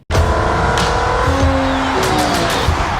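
Ferrari race car at the 24 Hours of Le Mans, a loud, close engine roar that starts abruptly and holds steady, with squealing tires.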